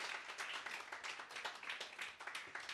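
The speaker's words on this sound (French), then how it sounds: "Bravo, on applaudit, Simon." A comedy show crowd claps and applauds steadily after a performer's story, a dense patter of hands heard at a distance, fairly quiet throughout.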